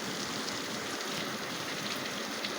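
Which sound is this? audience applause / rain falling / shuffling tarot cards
rain falling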